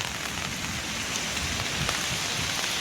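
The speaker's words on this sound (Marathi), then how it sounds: "पाऊस चालू आहे" Steady rain pours down over farmland with a damaged jowar crop, a dense, even hiss of drops on surfaces continuing without pause and without voices.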